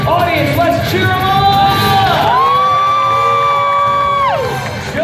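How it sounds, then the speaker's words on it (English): A loud crowd cheers and whoops at a Fear Factor Live stunt show at Universal Studios Orlando, a steady wash of voices lasting several seconds while a host's amplified voice carries over it. "Audience, let's cheer him"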